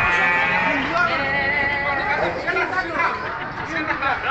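Sheep or goats bleating at an Eid al-Adha sacrifice held at a mosque, with overlapping animal calls mixed into dense crowd chatter and nearby voices.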